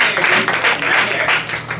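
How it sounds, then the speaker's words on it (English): A studio audience at a late-night comedy show applauds, a short burst of dense clapping with some voices mixed in. "But please give a round of applause for Blake Weber."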